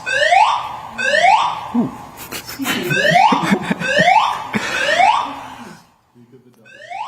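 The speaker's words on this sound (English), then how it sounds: "Someone just pulled the fire alarm on this forum." A fire alarm at an indoor forum wails in loud repeating rising sweeps, interrupted by brief broadband clatter. It stops for a moment and then starts again.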